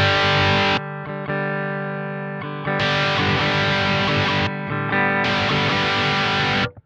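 Electric guitar played through a JHS AT+ distortion pedal, held chords alternating between a bright, saturated distorted tone and a thinner, cleaner bypassed sound, switched on and off several times at matched volume.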